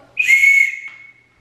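A single sharp blast from a handheld safety whistle, close and loud, starting abruptly, holding a shrill tone for about half a second, then trailing off into quiet.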